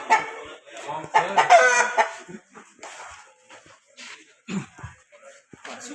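Fighting roosters at a cockfight arena in Laos, with scattered clucks and squawks and sudden bursts of wing flapping amid a noisy crowd, as people talk and shout loudly around the birds.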